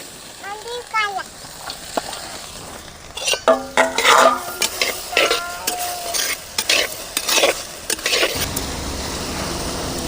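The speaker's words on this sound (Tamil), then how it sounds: "அரிஞ்சு வச்ச வெண்டைக்காய வணக்கலாம்" Chopped okra stirred and frying in a dry-heated pan, giving a steady soft sizzle with intermittent scraping and clinking of a spoon against the pan, close and moderately loud, with brief speech at the start.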